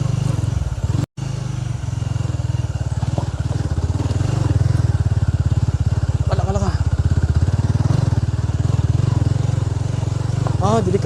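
A motorcycle carrying riders bumps along a steep rocky road, its engine chugging and clattering steadily up close while a person talks over it.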